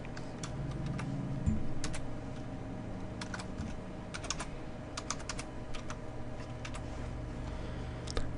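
Rapid, uneven typing on a computer keyboard with batteries running low: a continuous close clatter of light key taps, with occasional louder strokes and no talking.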